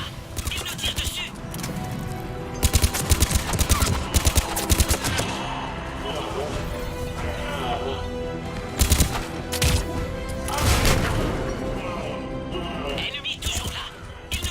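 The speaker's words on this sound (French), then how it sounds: "Ennemi toujours là. Il nous tire dessus." Rapid bursts of automatic enemy gunfire in the sci-fi shooter Mass Effect 3 rattle loudly in several volleys, with voices speaking over the combat.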